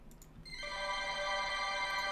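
Music run through heavy reverb with the dry signal turned down and the wet turned up: a bright, washed-out sustained chord that swells in and rings on evenly, with no voices.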